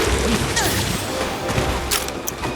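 Bombs go off in the Monster Hunter Rise video game, and a dense clutter of blasts and thumps runs loud throughout amid busy game noise.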